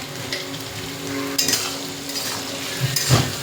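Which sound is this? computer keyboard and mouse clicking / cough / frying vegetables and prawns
frying vegetables and prawns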